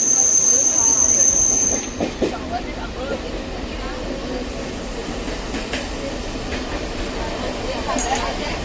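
A local train at platform 3 of Thane station opens with high metallic wheel squeal, then settles into a loud, continuous rolling rumble with faint clatter, heard close up on the platform.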